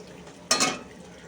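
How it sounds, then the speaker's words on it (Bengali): Chhana kofta balls dropped into hot oil in a pan and frying slowly, a sudden bright sizzling burst that quickly settles into a softer, steady crackle, close and alone. "দিয়ে এবার বলগুলোকে ভাজবো আস্তে আস্তে করে"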